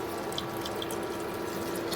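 Hot water poured into a pot of kidney bean curry, a steady close splashing stream with a few brief droplet splashes, moderately quiet with no voices.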